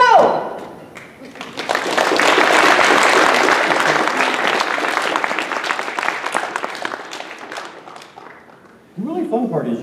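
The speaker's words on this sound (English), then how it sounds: "You guys are applauding the razor-sharp precision of her cuts" An audience at a tameshigiri sword-cutting exhibition breaks into applause that swells, holds and slowly fades, with a voice speaking briefly at the start and again at the end.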